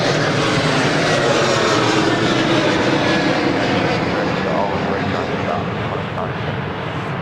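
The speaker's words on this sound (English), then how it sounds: "There goes Qantas Link." A QantasLink airliner passes at Adelaide Airport, a loud broadband engine roar that stays strong and slowly eases toward the end, with no clear talk over it.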